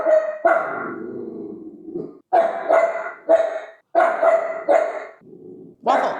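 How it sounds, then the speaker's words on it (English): A dog barks at a delivery driver at the door in a quick series of loud, close barks, with short pauses and a low growl between bursts. "That was Waffle barking at my door dasher."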